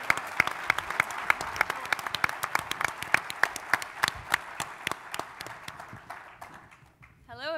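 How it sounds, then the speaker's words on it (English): Audience clapping for a finalist at a live pitch competition final, sharp rhythmic claps from a modest crowd, fairly close, tapering off toward the end as a voice begins. "So give her a big round of applause."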